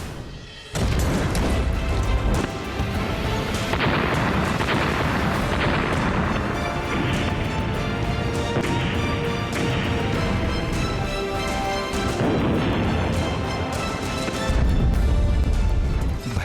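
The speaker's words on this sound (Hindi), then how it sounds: "भयंकर बमबारी और गोलाबारी से दहल रहा लेबनान।" Heavy bombing and shelling in Lebanon: deep booming explosions and rumbling blasts roll continuously, loud and dense with bursts of debris noise, no voices heard.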